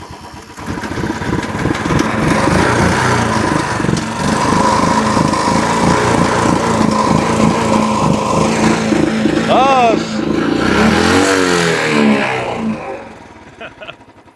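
Kick-started 2012 Royal Enfield Classic 500 running steadily with a loud, thumping, uneven idle close by; someone talks over it and the engine cuts out near the end.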